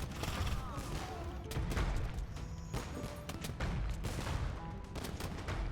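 Seven bombard cannons in a video game battle pound buildings along a town's outer edge: dense overlapping booms and crackling gunfire, loud and continuous throughout.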